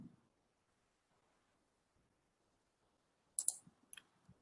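Computer mouse clicking the OK button in quoting software, a few sharp, faint clicks near the end after near silence, the first two in quick succession.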